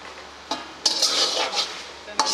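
A spoon scrapes and clatters against a pan while beef karahi, made without oil or vegetables, is stirred and fried, with sharp metallic knocks and bursts of hissing sizzle between them.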